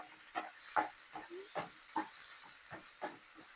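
Onions stirred in hot oil with cumin seeds, cooking until reddish, give a faint, steady hiss broken by soft, regular scraping taps of stirring.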